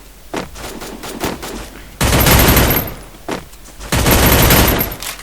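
Rapid bursts of gunfire from the Free Fire shooting game, with a scattering of single shots early on, then two long, loud sustained volleys of automatic fire, close and dense.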